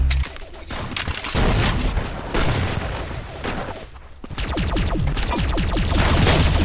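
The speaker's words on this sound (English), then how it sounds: "Like a full-on machine gun." Rapid, loud machine gun fire in the shooter game Arsenal, a gun holding about 100 rounds per clip, rattling in long dense bursts broken by brief pauses, with no talk over it.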